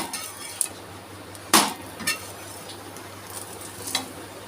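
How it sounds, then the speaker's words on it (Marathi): Rice uttapam cooking in ghee on a pan and being flipped, a soft sizzle running under a few sharp metallic scrapes and clinks of a spatula, one louder scrape near the middle, close by with no speech. "दुसऱ्या साईडने थोडंसं तूप घालून घेत आहे मी दोन्ही साईडने पुन्हा आलटी पलटी करूयात"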